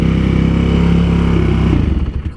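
A Honda CRF450R supermoto motorcycle engine revs loudly and steadily up close, holding a high throttle before dropping and sputtering down near the end.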